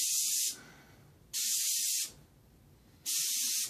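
An airbrush sprays paint onto a dragon model in three bursts of loud, steady hissing spray, each lasting under a second and separated by quiet pauses.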